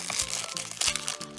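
Crinkling plastic packet from an LOL Surprise doll capsule, handled up close in a quick series of rustling, crunching bursts.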